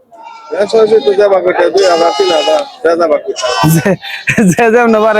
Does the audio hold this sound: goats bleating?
yes